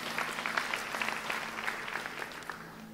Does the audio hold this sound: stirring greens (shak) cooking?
no